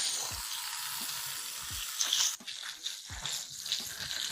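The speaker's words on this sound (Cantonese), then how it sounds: "依家呢就將啲雞扒放落去煎" Chicken thigh pieces fry skin side down in a pan for a Cantonese lemon chicken dish, giving a steady, hissing sizzle with a brief clatter and shift partway through; no one talks.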